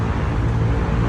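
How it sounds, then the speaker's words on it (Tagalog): Steady, loud roar of street traffic dominated by motorbikes near Opos Mall, a continuous low engine rumble with no pauses and no voices. "Maingay ang mga motor"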